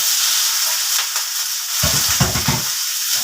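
Pork belly stir-fried in a wok hisses loudly and continuously, with a short burst of clattering stirring partway through and no talking.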